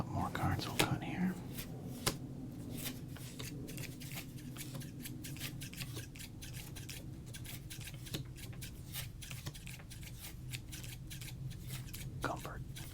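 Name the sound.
scissors cutting baseball card pack wrappers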